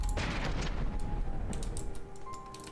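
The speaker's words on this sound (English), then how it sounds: "Doing some pretty good explosions." Explosions in the naval combat game From the Depths sound as a rapid, muffled string of blasts and crackling bursts, dense at first and then thinning to scattered sharp pops, moderately faint throughout.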